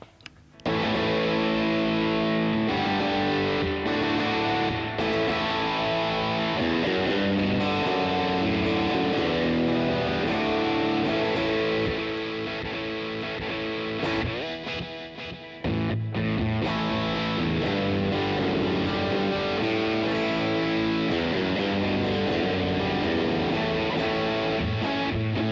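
Electric guitar played through a Cinnamon overdrive pedal into a Strymon reverb, a sustained distorted tone with lush reverb and long ringing tails, loud and continuous.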